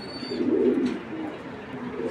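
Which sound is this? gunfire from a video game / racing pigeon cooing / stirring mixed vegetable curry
racing pigeon cooing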